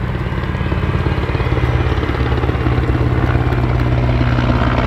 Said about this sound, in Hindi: ऊपर की गुजरता हेलीकॉप्टर